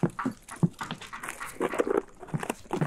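Dogs in a video game whimper, pant and make small yelping noises close by, with soft pattering and rustling mixed in, in short uneven bursts.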